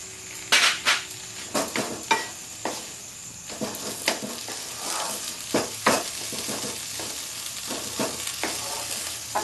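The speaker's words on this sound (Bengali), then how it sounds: "আজ আমি এটা পুরো করে ম্যাশ করে নিয়ে তারপর জল দেবো" Pav bhaji vegetables are mashed in a pan with a metal masher, giving repeated close knocks and scraping clatters over a soft frying sizzle, with no talking.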